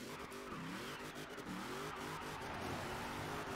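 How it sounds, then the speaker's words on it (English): A Nash Metropolitan on very thin, light tyres in Forza Horizon 4 squeals and skids while its engine whines and revs up and down in shifting pitch. The sound is continuous and close, with no talking. "This tyre sound is definitely different."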